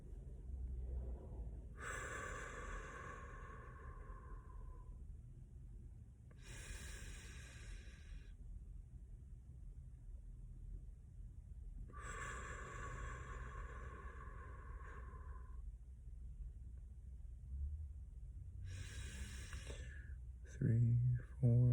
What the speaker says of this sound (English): That's box breathing.